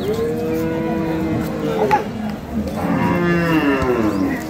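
A dairy cow at a cattle market moos loudly and close by in two long, drawn-out calls with a brief pause between them.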